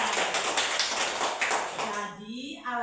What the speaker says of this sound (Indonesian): tepuk tangan dulu untuk Juan